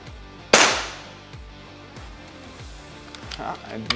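An Air Venturi Avenger air rifle fired offhand gives a single sharp, loud crack that decays quickly, followed by quieter ambient rumble and a few faint clicks.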